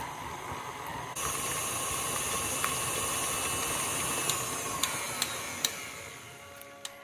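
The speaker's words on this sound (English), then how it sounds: "Put on your beater attachment if you're using a KitchenAid mixer." A KitchenAid stand mixer with the beater attachment whirs into a steady, loud motor drone as it beats butter on medium speed, with a few faint clinks of the beater against the bowl.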